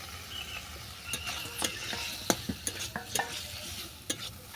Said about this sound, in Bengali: কাঁকরোলটাকে ভালো করে নেড়ে ছেড়ে মিশিয়ে নিলাম